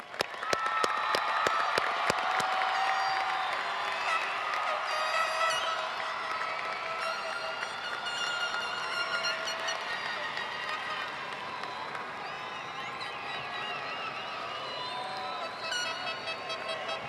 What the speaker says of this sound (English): Let's give this group one more big round of applause